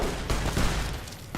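Rapid gunfire from a Fallout firefight, a dense, continuous burst of overlapping shots with a short louder crack near the end, close and loud with no talking.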